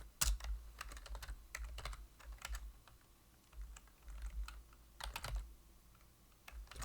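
Fast, irregular clicking of a computer keyboard during a coding lecture, close and fairly quiet, with bursts of keystrokes separated by short pauses and no talk.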